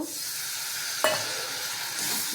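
Chilli, turmeric, cumin and salt masala simmers with a splash of water in a pan, a soft continuous sizzle with a single scrape of the stirring spoon partway through.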